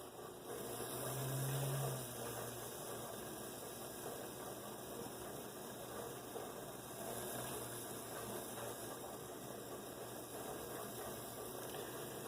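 A small Athearn SD45 or GP35 model train motor hums steadily as its tarnished flywheel spins while being polished with steel wool, a continuous close, even whir with a brief louder low tone near the start.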